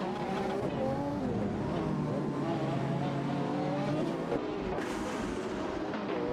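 A Chevrolet Corvette C6 ZR1 and a Porsche 911 991 Turbo S scream side by side in a video game race, engines wailing loudly with shifting pitch and a brief burst of tyre noise near the end.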